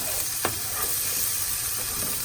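Chicken sizzles and browns in a hot pan for an Italian chicken dish, a steady broadband frying hiss with a single sharp utensil scrape near the start and a few softer stirring touches, close and continuous with no talking.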